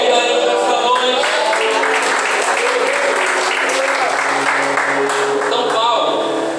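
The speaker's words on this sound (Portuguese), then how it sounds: "Vamos aplaudir a Ele nesta noite" A church congregation at an evening doctrine service claps in a full, continuous wave of applause, dense and steady throughout, with voices and music tones mingled beneath.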